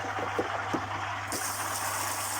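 Fresh water is pushed into a koi pond filter, a steady rushing gush with a low pump hum beneath and a few soft knocks early on, the flow swelling louder partway through.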